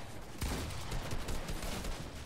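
Rapid bursts of gunfire from the Fortnite video game, a dense sustained volley of shots with sharp repeated cracks, loud and continuous throughout.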